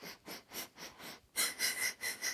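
Steady, rhythmic breathing during a beginner Pilates exercise, with a string of short, airy breaths repeating close to the microphone, growing stronger and sharper partway through.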